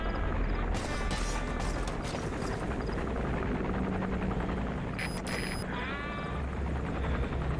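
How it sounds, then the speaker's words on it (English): Helicopter rotors in the Metal Gear Solid V: The Phantom Pain stealth game thrum in a steady, continuous drone, with brief higher game sound effects scattered over it. "I just need that helicopter to go away"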